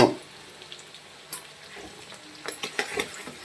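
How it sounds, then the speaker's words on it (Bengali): Onions frying in very hot oil, a soft steady sizzle with occasional scraping stir strokes and light clatters near the end, fairly quiet and close. "পেঁয়াজটা ঠিক একদম লাল কালার করে, গোল্ডেন কালার হবে, যেটা একদম ওই কালারের মতো করে ভেজে নেবো সুন্দর করে"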